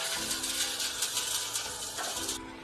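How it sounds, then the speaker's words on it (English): A sand sieving machine sifting plastering sand gives a continuous mechanical rattling and hiss with a steady hum underneath, then the hiss drops away near the end. "The sand sieving machine is a machine that sieves plastering sand."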